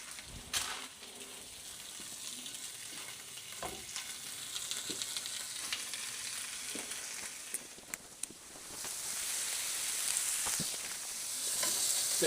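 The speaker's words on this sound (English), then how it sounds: "I'm just going to chuck them in a pan. Let them sizzle away for a bit." Food frying in a pan on the hob, a steady close sizzle and hiss with occasional pops and stirring clatter, growing louder toward the end.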